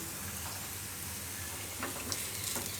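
Leftover rotli pudla frying gently over a low gas flame, giving a soft, steady sizzle with faint crackles and a few small spatters, close by with no talking.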